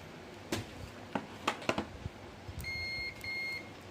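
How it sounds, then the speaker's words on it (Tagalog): A few faint clicks and taps, then two short electronic beeps from a continuity tester buzzer checking house wiring, a steady tone followed by a brief second one, close and clear. "Lagyan ko na lang siya ng buzzer."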